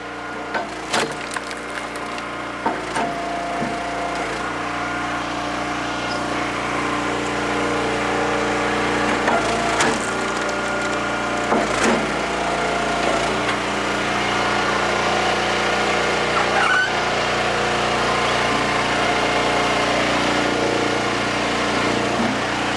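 An Eastonmade vertical log splitter works through big oak rounds, its engine droning steadily throughout while sharp wood cracks and splintering snaps break out near the start and again around the middle.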